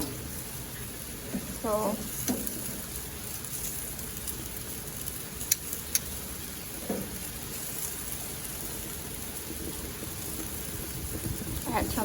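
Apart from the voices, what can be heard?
rain falling on patio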